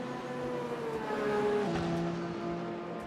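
Racing engine in RaceRoom, a steady sustained note with rising and falling harmonics and a light crackle, close and continuous with no voices.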